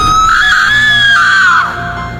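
A single sustained high-pitched scream rings out loud and close inside an old house, holding steady for over a second and a half before dropping away abruptly, with no talk over it.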